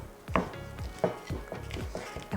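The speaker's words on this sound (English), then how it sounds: "we'll just start mixing this together in our bowl" A wooden spatula works yeast roll dough in a bowl, giving close, soft thuds and scrapes in a loose rhythm roughly every half second, with no talk.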